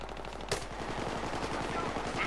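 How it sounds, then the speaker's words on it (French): Rapid bursts of automatic gunfire from a Battlefield 3 match on Xbox 360, rattling steadily through the whole stretch with one sharper, louder shot near the start. "Ah, y'en a un qui tire là."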